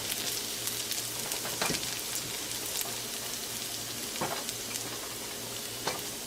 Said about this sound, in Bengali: এবার এর মধ্যে আমি এই চপ করা গার্লিকটা দিয়ে দেব। গার্লিকটা অ্যারাউন্ড 10 to 15 সেকেন্ডস লো হিটে একটু হালকা ফ্রাই করে নেব।